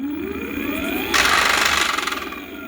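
A motor accelerates with its whine climbing in pitch, then an oversized thick tire starts rubbing against the motor, adding a harsh, loud scraping buzz that carries on to the end.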